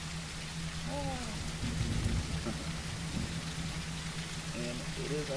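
Steady rain in an Unreal Engine 5.6 scene hisses as a constant broadband wash at fairly low level, with a low hum and a few brief voice-like chirps on top.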